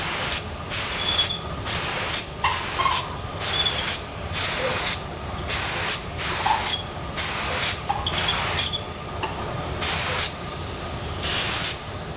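A paint spray gun spraying a smooth coat on even surfaces, heard as a loud, continuous hissing spray in repeated bursts with brief pauses between passes, close up and steady throughout, with no talk.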